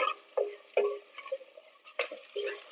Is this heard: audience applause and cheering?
no